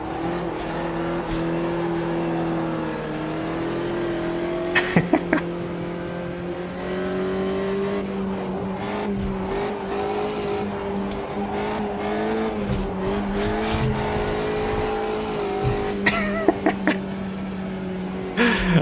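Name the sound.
Volkswagen Fusca drifting in Automobilista 2 video game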